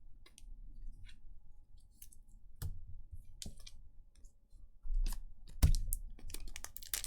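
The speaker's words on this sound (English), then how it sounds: "Let me sleeve up the Rufus." A Rufus Shinra trading card from a Final Fantasy TCG booster is slid into a protective sleeve, a series of faint close clicks and plastic rustles with a few sharper snaps near the end.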